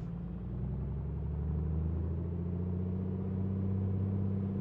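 Light aircraft piston engine held at 2000 RPM during a run-up, a steady, even droning hum with a low throbbing pulse that stays constant throughout, no talking over it.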